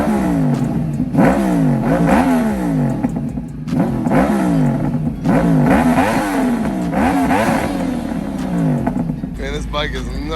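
A motorcycle engine revs loudly and close by, climbing and falling in repeated sweeping bursts with a mechanical clatter underneath.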